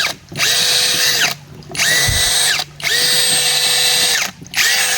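A cleaned power tool, likely a drill, revs in three loud bursts of a few seconds each with short pauses between, close up and alone.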